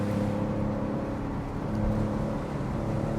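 A new Maserati GranCabrio Trofeo drives around a block, its engine humming and revving steadily up close with a continuous low drone throughout.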